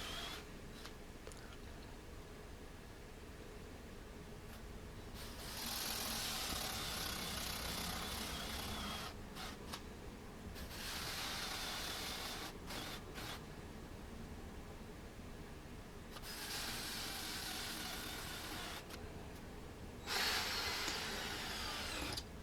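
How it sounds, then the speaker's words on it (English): A 50mm Forstner bit drills out a bone-shaped opening in a wooden dog stair guard, the cordless drill biting in several sustained bursts with pauses between cuts, close and steady. "I'm using a 50mm Forstner bit just to drill out the bone basically."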